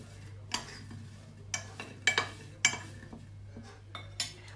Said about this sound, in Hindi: तो करते हैं मिक्स